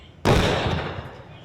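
Sniper rifle shot in the mobile game Indian Bike Driving 3D: a single sharp loud blast that bursts suddenly and then decays over about a second.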